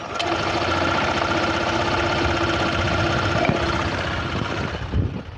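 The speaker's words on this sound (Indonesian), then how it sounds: "saya mau mendengarkan mesinnya waktu dihidupkan starter untuk Honda PCX." A Honda PCX 160 scooter engine runs steadily with the microphone held close, giving a constant, even mechanical hum and fine rattle that holds for several seconds before a slight bump near the end.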